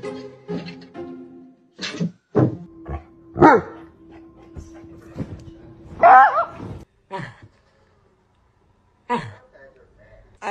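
A pet dog barks and whimpers in short, uneven bursts at close range, one sustained whining cry standing out, while people talk and react around it.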